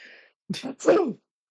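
A single close sneeze with a short breathy intake followed by a sharp burst, brief and moderately loud after a moment of quiet.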